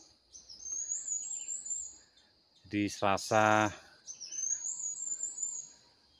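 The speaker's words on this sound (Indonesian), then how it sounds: "saat saya mendengarkan kicauan burung" Birdsong and insect chirping in a forest during a trek to install camera traps, a steady high trill with brief calls, paused by a short burst of speech in the middle.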